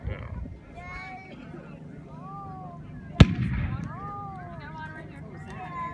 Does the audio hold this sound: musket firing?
yes